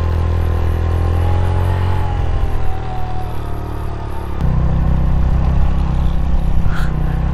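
A car engine labours up a steep mountain road in first gear at high altitude in Pakistan's northern areas, a loud steady rumble that drops and shifts tone partway through, with no talk.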